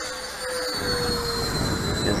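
An RC F-86 Sabre jet model with a 90mm electric ducted fan and 1420mm wingspan flying overhead, giving a steady, rising whooshing whine with a thin high tone, continuous and moderately loud with no talk.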